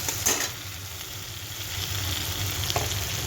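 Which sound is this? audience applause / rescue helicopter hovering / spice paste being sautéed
spice paste being sautéed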